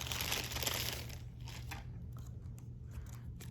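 A new laptop keyboard for a Lenovo Yoga 11e Gen 5 slides out of a plastic bag, making close crinkling and rustling plastic sounds that are loudest at first, then scattered softer crackles.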